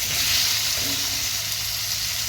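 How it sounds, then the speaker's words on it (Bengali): Steady, dense frying sizzle of pumpkin cooking in hot oil with a little salt fills the whole stretch, a continuous crackling hiss, fairly loud and close with no talking. "সামান্য লবণ দিয়ে কুমড়োটাকে ভেজে নিচ্ছি"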